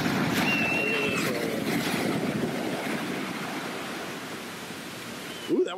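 A continuous roar of Pacific ocean surf washing in at Puerto Vallarta, broad and steady, with wind rushing across the microphone.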